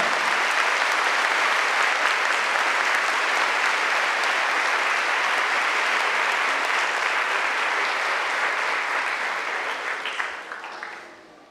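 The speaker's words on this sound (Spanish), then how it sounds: "Un aplauso a la palabra de Dios proclamada." A church congregation at a healing mass applauds, a dense, loud wave of clapping that holds steady for several seconds and then fades out near the end.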